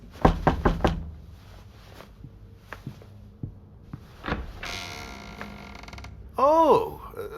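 Knocks on a door in the horror game Evidence 111, a quick burst of four or five sharp raps followed by scattered softer taps, creaks and shuffling, close and clear, ending in a brief tonal rising sound.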